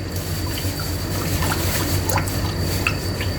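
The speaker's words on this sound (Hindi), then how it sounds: "इधर हम 1 कप पानी का शामिल कर देंगे" A cup of water is poured into chicken korma in a pot, a soft continuous trickle and splash under steady background hiss, fairly quiet with no speech.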